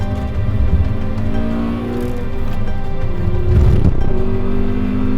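A track car on Michelin tyres brakes hard and downshifts into second gear. Its loud engine note falls in pitch, then jumps with a sharp rev blip and carries on close and steady, with no talk.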